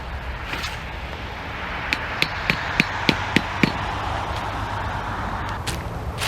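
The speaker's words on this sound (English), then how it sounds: "I'm going to get a hammer too, just to make sure I tack it down well" A hammer tacks down a drip irrigation line in a hosta bed: seven evenly spaced sharp taps in quick succession, fairly close, over a quiet outdoor background.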